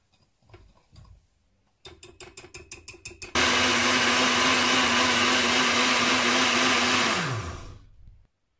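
An electric mixer starts with a few pulsing bursts, then runs at a loud steady whir for about four seconds while blending a flour mixture, before winding down and stopping.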